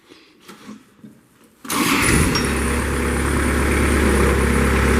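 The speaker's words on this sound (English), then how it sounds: "That Kubota engine just fired right to life." A 2005 Moffett M5000 truck-mounted forklift's Kubota engine cranks and catches after quiet background noise, then settles into a loud, steady idle with a low, even rumble.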